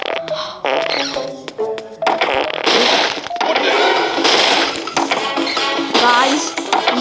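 A cartoonish farting effect from a character in the stealth game Robbery Bob 2, loud buzzing blasts that come and go over busy game sounds and music.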